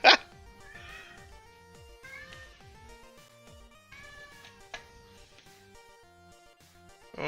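A house cat meows and chatters in a series of short, tonal calls amid quiet indoor sounds, with a sharper sound at the start and at the end.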